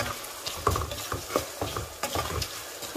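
Spices with salt are sautéed in a pan, a soft background sizzle punctuated by rhythmic scraping and tapping of a spatula stirring, roughly twice a second, close and fairly quiet.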